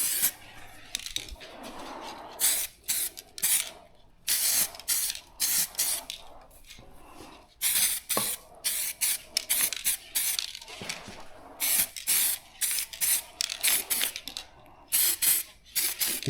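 An aerosol spray can coats a drag bike part in short bursts of paint, with loud, close hissing blasts repeating in an irregular rhythm and brief pauses between them.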